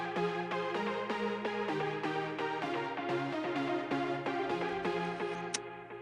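A filtered synth lead melody runs through a fully wet ping-pong delay, band-limited by low and high pass filters, with repeating echoed notes bouncing in a steady rhythm, alone and moderately quiet.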